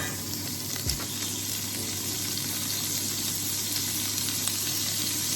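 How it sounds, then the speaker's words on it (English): Steady, loud sizzling of soy-sauce-marinated pork strips frying in a hot pan, a continuous crackling hiss with no talking. "Let's just put the pork. Might make a lot of noise because it has been marinated in soy sauce"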